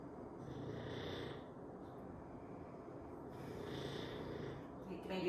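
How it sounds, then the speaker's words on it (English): A dog named Buddy snores steadily in a quiet room, two slow, breathy rumbles rising and falling in a relaxed rhythm, close by and moderately soft. "His snores are right on cue."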